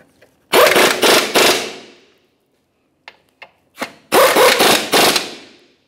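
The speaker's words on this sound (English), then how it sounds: "Now that we have every single mounting bolt started into position, we can start snugging things up." Ratchet wrench tightening 18mm bumper mounting bolts on a 2000-2006 Chevrolet Tahoe, loud close rasping bursts in two groups of three separated by a near-silent gap with a few faint clicks.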